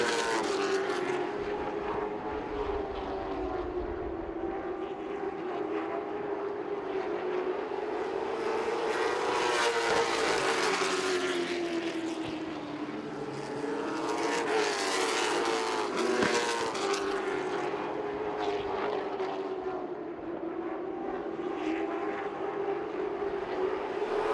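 Late model stock cars roar around the oval at Southern National Motorsports Park, a dense, continuous engine drone with pitch sweeping up and down as the pack passes, loud and sustained throughout.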